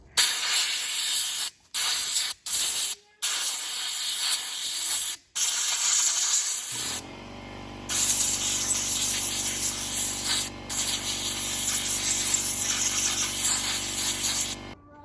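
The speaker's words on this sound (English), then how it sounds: "Then take your clutch cover, compressed air." Compressed air hisses loudly in short bursts against the clutch cover of a Husqvarna 545 Mark II chainsaw, stopping and starting several times. A longer continuous blast follows, with the air-tool hiss close and alone.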